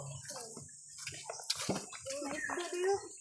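Water splashing and sloshing as people bathe in a river in Bohol, with irregular close splashes and children's voices talking throughout.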